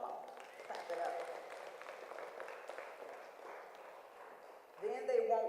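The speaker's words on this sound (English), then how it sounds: "Come on, clap it up." An audience claps steadily for several seconds, a dense, slightly muffled patter that fades, then a voice speaks loudly over it at the end.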